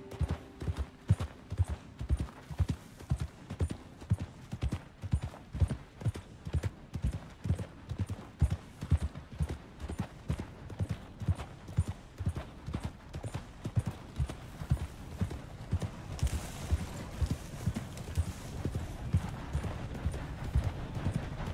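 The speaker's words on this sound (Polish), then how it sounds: "Nie, to jest koń tam, dobra." Horse hooves clip-clop in a steady, even trot in Red Dead Redemption 2, close and distinct throughout, with a faint tonal sound near the start and a brief hiss of background noise late on.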